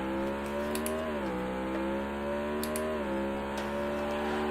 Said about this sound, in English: I find when I'm near the other cars, though, it's tough to hear my own car.